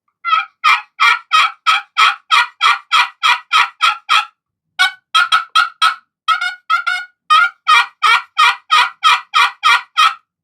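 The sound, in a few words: turkey friction call played with bloodwood striker, raspy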